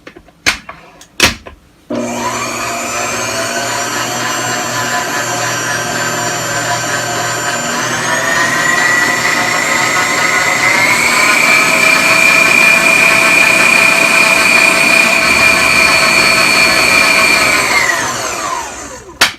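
A stand mixer with a dough hook kneads bread dough for Hawaiian rolls, giving a steady, close electric motor whine that steps up in pitch partway through, holds, and then winds down.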